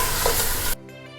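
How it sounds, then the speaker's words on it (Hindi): Beef with a paste of green chillies loudly sizzling and frying in a pot, the strong hiss filling most of the moment before dropping abruptly to a quieter residual sizzle with faint clinks. "गोश्त के साथ ही हम इसमें डालेंगे 3 टेबलस्पून भरकर हरी मिर्चों का पेस्ट। और इसे अब हम भूनेंगे अच्छी तरह से।"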